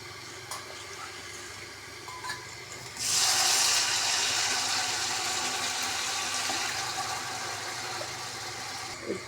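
Water pours steadily into a cooking pot of soaked rice for ghee rice, a broad splashing rush starting partway through and continuing loud and close to the end, over faint kitchen background.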